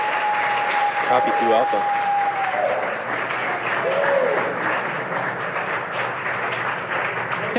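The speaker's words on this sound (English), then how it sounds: "of course the cheering behind me" Crowd cheering and applauding at the SpaceX Crew-8 launch as stage separation is confirmed, a steady roar of voices and clapping with a broadcast announcer talking over it.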